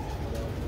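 A male pigeon from a breeding pair, sitting inside the coop while the hen feeds the chicks, gives a brief, low coo close by with no other sound over it.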